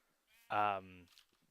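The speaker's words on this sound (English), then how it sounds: "I've got to work out what to do with these sheep." A single sheep bleat from Minecraft, a short wavering game sound effect lasting about half a second, clear and close with nothing else around it.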